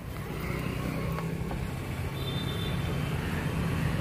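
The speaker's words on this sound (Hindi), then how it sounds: "अभी हम लोग सवारी करेंगे बहुत दिन से रिक्शा गाड़ी में" Steady road and traffic rumble while riding in a rickshaw, a continuous low drone with faint passing vehicle sounds and no speech.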